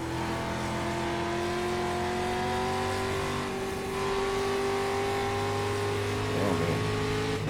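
Race car engine in the iRacing sim during an oval race, a steady sustained drone with a rising pitch as it accelerates, loud and continuous with no talk.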